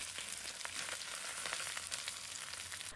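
Peppercorns and ginger slices sizzle in hot oil in a wok, a steady, close crackling hiss with scattered pops that holds at an even level throughout, with no voices.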